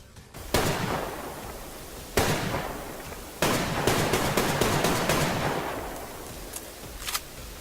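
SKS rifle gunfire in the Survarium video game, loud close shots in separate bursts followed by a quicker run of rapid cracks, with ringing echo trailing between them.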